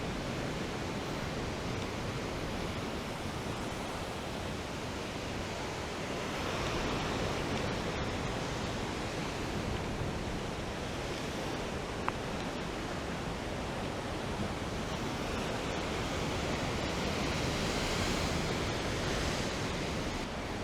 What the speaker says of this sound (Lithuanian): Tai tikėtinai va čia ir tas krioklys